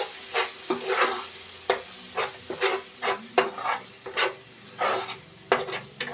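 Kashmiri red chili powder and turmeric fry in a pan for an egg and green pea curry. A spoon scrapes and stirs in repeated rasping strokes over a steady, close sizzle.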